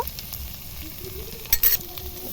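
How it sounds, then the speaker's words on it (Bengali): Pointed gourd sautés in a pan with turmeric, salt and sugar, giving a soft continuous sizzle and a couple of brief stirring scrapes near the end, with no talking. "দিয়ে আবারও আমি কষিয়ে নেব"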